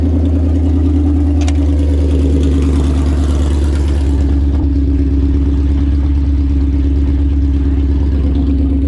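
A supercharged Edelbrock Coyote V8 swapped into a 1979 Ford Fairmont runs loud and close at a steady, lumpy idle with a deep rumble, a brief rise in revs partway through, then settling back; no speech.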